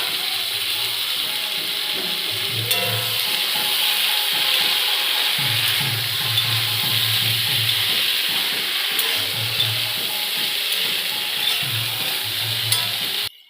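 Boiled peas added to potatoes and spices frying in a pan for ghugni give a steady, close sizzling hiss throughout, broken by repeated scraping and clattering stirring strokes of a spatula against the pan; no one talks.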